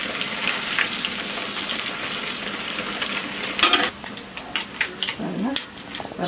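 Anchovies fry in hot oil with a loud, busy sizzle and crackle that drops to sparser pops partway through, with occasional stirring.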